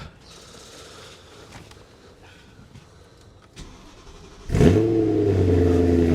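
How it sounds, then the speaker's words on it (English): A BMW M car is started with a short cranking whir, then the engine catches and settles into a loud, steady rev held near the end of the clip. "The keys in it, so now we give it a start."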